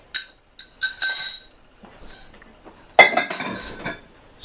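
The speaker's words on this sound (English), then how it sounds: "Stir this up a little bit." Raw shrimp, tuna and other seafood are stirred into a cioppino mixture in a pot, with scattered clinks and scrapes of a utensil against the pot in short, uneven bursts.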